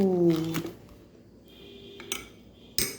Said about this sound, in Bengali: আমি দু চামচ ছাতু নিয়ে নিলাম সামান্য একটু লবণ নিয়ে নিলাম এটাকে একটু ঘুটে নিলাম